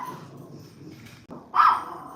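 Dogs indoors make a short bark, then a rising whimper or yip, close and moderately loud over a low background.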